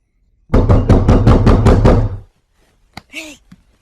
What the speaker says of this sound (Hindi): अरे देख तो नॉक कर रहा है लेकिन बोल नहीं रहा है।